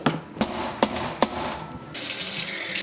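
Running water rinses a Ninja Luxe Café Premier espresso machine between shots, opening with a few sharp knocks and clatters before a steady, bright rush of water takes over near the end, close and fairly loud.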